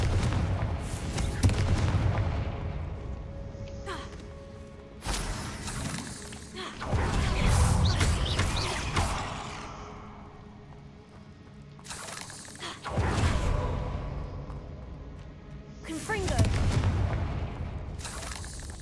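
Confringo spell blasts from the Hogwarts Legacy video game, several loud booming bursts a few seconds apart, each with a crackling, shattering tail over a low rumbling game backdrop.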